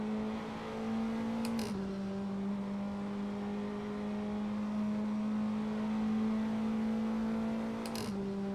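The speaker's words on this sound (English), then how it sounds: "get on the throttle as quick as possible again, and just get the car going up to speed again" A Praga R1 race car in a sim racing game at Monza holds a steady, droning engine note on the throttle. Its pitch dips briefly at a gear change near the start and again near the end, with no voices.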